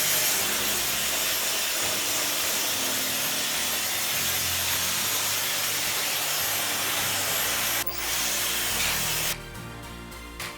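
A hair dryer blows steadily on a bob haircut in a salon, a loud broadband airflow that runs continuously, dips briefly near the end and then drops to a lower setting.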